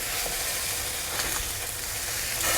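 Salmon fillets, seasoned with salt, sizzle skin side down in a hot pan, a steady dense frying hiss that stays loud and even throughout with no voices.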